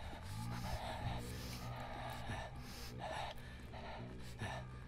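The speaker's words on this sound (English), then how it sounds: "I'm panting." Rapid, rhythmic panting breaths in the multiplayer horror game Sleeping Dawn, a steady run of close, breathy gasps and snorts repeating for several seconds.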